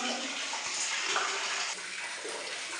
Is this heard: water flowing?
yes